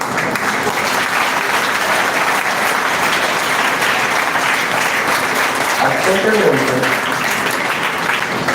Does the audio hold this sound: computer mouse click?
no